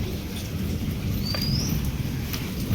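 Steady rain pours over a farm field during the first monsoon, with a low continuous rumble of thunder underneath and a brief bird chirp partway through, all without talk.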